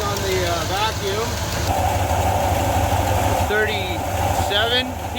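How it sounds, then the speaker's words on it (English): Engine of a 1987 Ford F150 idling roughly with a slight stumble, a steady low rumble close by, with voices talking over it. "Not idling very good. Yeah. It's got a tiny little stumble."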